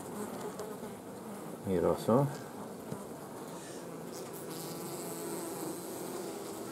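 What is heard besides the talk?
honey bees buzzing on hive frames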